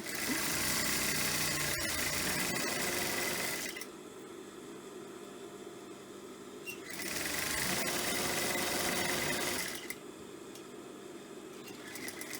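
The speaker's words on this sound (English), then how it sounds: "I do apologise for my sewing machine, it is very loud" A sewing machine runs loudly in two long bursts of fast, buzzing stitching, separated by a quieter pause.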